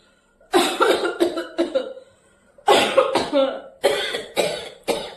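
A person coughs repeatedly in loud, close bursts, around eight harsh coughs grouped into three fits with short silences between them.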